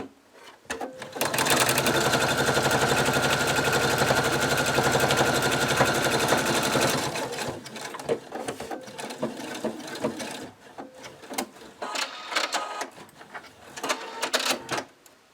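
A sewing machine runs a continuous loud stitching burst for about six seconds, sewing a feather detail line down the middle of a cockatiel plushie, followed by softer clicks and handling noises.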